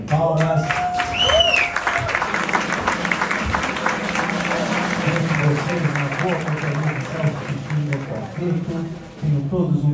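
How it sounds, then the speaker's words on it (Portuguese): An audience at the JazzB club in São Paulo gives a warm round of applause welcoming a jazz quartet, dense sustained clapping mixed with crowd noise and voices. "Vamos receber esses maravilhosos músicos com uma calorosa salva de palmas."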